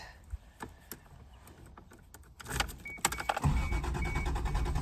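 The engine of a 1986 Toyota Supra cranks over after scattered clicks and rustles inside the car. A rhythmic cranking starter churn builds up over the last couple of seconds, close and moderately loud.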